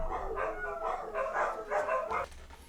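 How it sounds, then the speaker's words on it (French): Several dogs bark and yip in quick, overlapping bursts close by, an excited run of yelps filling the whole moment with no one speaking. "désolé pour ce petit intermède avec les chiens"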